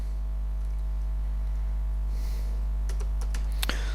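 Computer keyboard keys clicking while program code with branching conditions is written, a few sparse light taps near the end over a steady loud mains hum, with no speech.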